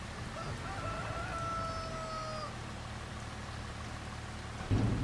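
Farm chickens in the Farming Simulator 25 video game, a drawn-out crowing call rising and falling over a steady, rain-like ambient hiss, moderately loud.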